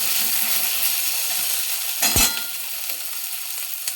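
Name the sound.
spice paste frying and being stirred in a wok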